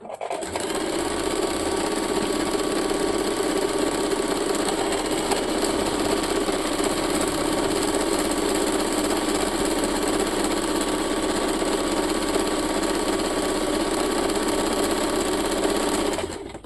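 A sewing machine set to pattern H with stitch length 1 runs steadily while stitching a decorative design on a salwar hem, a close, continuous whirring drone for more than fifteen seconds without pause.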